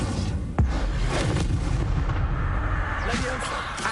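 A fire spell cast in the Hogwarts Legacy video game lands as a sharp, booming burst early on, followed by a steady rumble of crackling game effects and background score.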